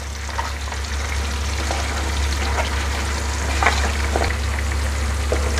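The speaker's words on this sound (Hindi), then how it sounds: "ये तेल में प्याज डाल दी है अखनी बनाने के लिए।" Onions frying in hot oil in a frying pan for chicken biryani akhni, a loud continuous close sizzle with light stirring scrapes over a steady low hum.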